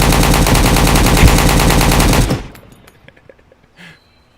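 A loud, sustained automatic burst from a gun in the shooter game Road to Vostok hammers on for about two seconds, then cuts off into a few faint echoing clicks and a quieter tail.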